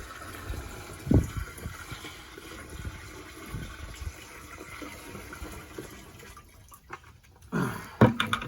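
Bleach and water are poured into a container for roof washing, a steady gurgling trickle with a few sloshing splashes, close and fairly quiet, with no talking.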